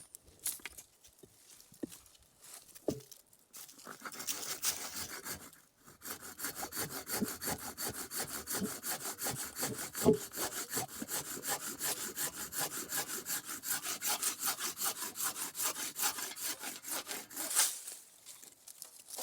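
A handsaw cuts through the cracked end of a wooden branch, steady rapid back-and-forth strokes running for about fifteen seconds, close and fairly loud, with a few knocks and handling sounds before it starts.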